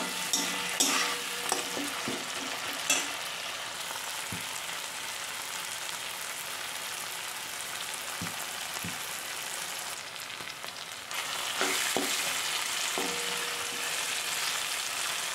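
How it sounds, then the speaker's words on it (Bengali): Mixed vegetables and cashews frying in a pan give off a continuous bright sizzle, with intermittent spatula scrapes and knocks as they are stirred, close and without talking. "এবার দিয়ে দেবো কাজু। অর্ধেকটা দেবো আর অর্ধেকটা রেখে দেব। ভালো করে আবার নেড়ে নেব।"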